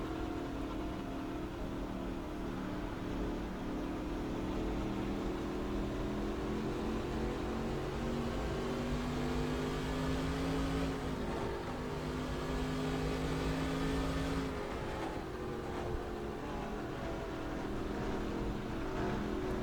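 A race car engine in NASCAR Racing 2003 drones steadily with a sustained tonal hum that wavers and shifts in pitch near the end, continuous and moderately loud.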